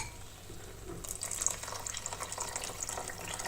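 Stock is poured into an asparagus and pistachio risotto as a steady splashing trickle that starts abruptly and runs for a few seconds, close and fairly loud, with no talking.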